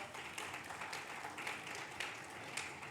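A hall audience at the Devi Awards ceremony in Bhubaneswar gives a round of applause, a soft, distant patter of many hands clapping steadily for a few seconds.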